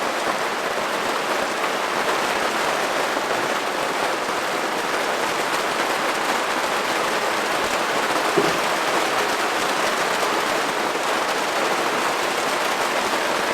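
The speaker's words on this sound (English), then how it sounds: "Looks like this is going to be our second day of rain" Rain falls steadily around a cruising boat on the Inside Passage, a dense, even hiss that stays constant throughout with no voices, just one faint tap partway through.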